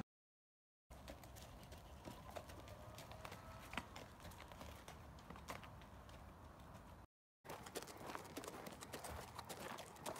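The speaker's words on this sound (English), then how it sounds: "So she's riding the horse bareback home." Hooves of a horse ridden bareback clip-clop on the way home in a steady walking rhythm, close and clear, with faint creaks and a short break partway through.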